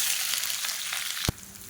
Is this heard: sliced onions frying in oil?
yes